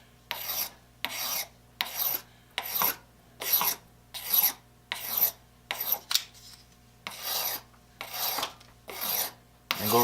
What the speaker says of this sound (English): then I can take the sandpaper